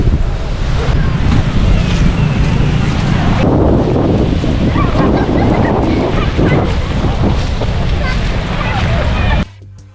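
Sea waves on the beach at Cox's Bazar during an evening walk roll in as a steady, loud, close roar, with wind buffeting the microphone throughout, before cutting off abruptly near the end.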